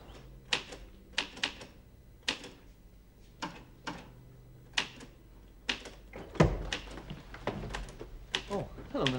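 Manual typewriter typing in an office in a 1984 Scottish drama, sharp irregular keystrikes, a few bursts and single clacks, fairly close, with soft sounds of movement in between.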